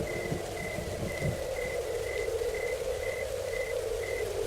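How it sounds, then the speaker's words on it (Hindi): Light rain falling on a lonely stormy night, a soft steady hiss with a faint rhythmic beeping tone repeating throughout. "हल्की हल्की बारिश शुरू हो गई"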